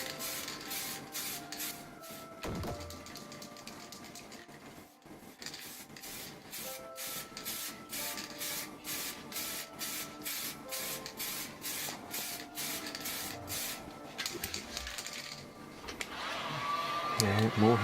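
Spray can painting a wheel in freezing cold conditions: rapid repeated hissing bursts in a steady rhythm, close and continuous, ending in a longer blast of noise.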